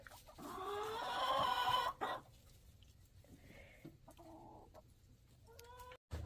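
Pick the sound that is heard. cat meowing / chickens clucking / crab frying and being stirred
chickens clucking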